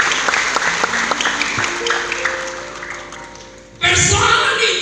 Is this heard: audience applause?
yes